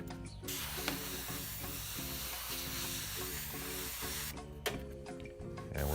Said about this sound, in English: And we're spraying about 10 to 15 psi.